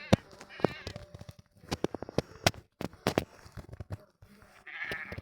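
A goat in Minecraft bleats in short wavering cries amid clicks, footstep taps and other game sounds, with someone speaking French between them.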